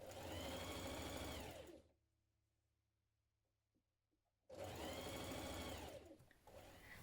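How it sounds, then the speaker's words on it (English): A sewing machine hems a turned-up kaftan sleeve in two loud, close bursts of rapid stitching, separated by a few seconds of near silence. "Then you're going to turn it up 3 centimetres and hem it in place."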